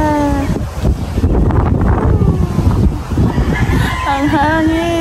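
Strong wind roars and buffets the microphone outdoors at the Mount Luho view deck on Boracay Island, Philippines, while a rooster crows at the start and again near the end.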